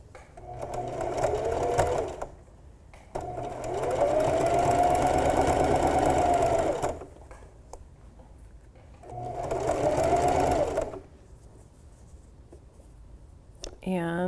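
A sewing machine stitches back down the other side of a seam on an upcycled flutter-sleeve tee, running in three steady, close whirring bursts of a few seconds each, separated by quiet pauses, with a voice speaking at times.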